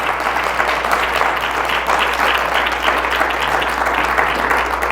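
Sustained applause from a church congregation during a Spanish-language sermon, dense steady clapping that fills the full stretch at an even level.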